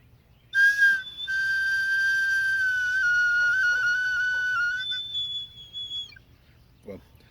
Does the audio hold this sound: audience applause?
no